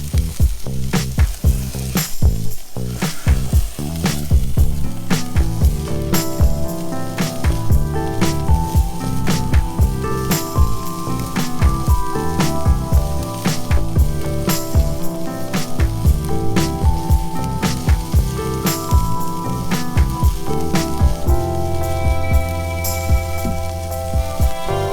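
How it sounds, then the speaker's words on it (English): Steaks sear in a hot pan, a loud, close, continuous sizzle and crackle with frequent sharp pops throughout and no talking. "Got our sear going on with these steaks."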